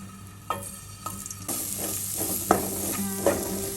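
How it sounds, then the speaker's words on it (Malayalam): Chopped plantain is stirred into hot ghee with roasted coconut for a pradhaman dessert, giving a soft, steady sizzle up close with a few scraping stirs and clicks of the utensil. "നമുക്ക് ഈ തേങ്ങ മൂപ്പിച്ച നെയ്ക്കകത്തോട്ട് തന്നെ ഒരു ചെറിയ ഏത്തപ്പഴം കൂടെ അരിഞ്ഞു ചേർക്കാം."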